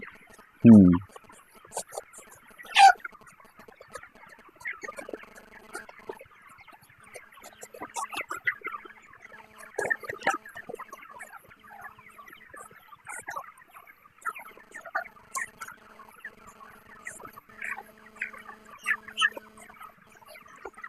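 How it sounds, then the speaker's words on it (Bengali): Chickens on a poultry farm, a flock of 25-day-old birds with a slight cold, make a loud close call at the start, then scattered clucks and chatter continue throughout. "মুরগি অনেক সুস্থ আছে, হালকা একটু ঠান্ডা আছে"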